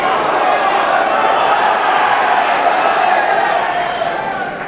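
Snooker crowd at the 1997 Masters urging a ball toward the pocket, a sustained murmur of many voices rising and holding, under commentary.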